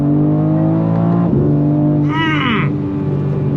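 BMW M4 CSL in track mode launches from a dead stop, its engine roaring loud and steady from inside the cabin as it accelerates, with a rising upshift sweep partway through and an excited shout from an occupant.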